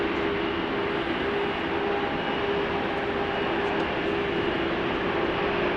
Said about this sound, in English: Now, the engines are starting. Have started, I should say.